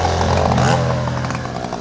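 Two motorcycles approaching a car at a traffic light, loud close engine drone with a revving, buzzing rasp that rises and then holds steady.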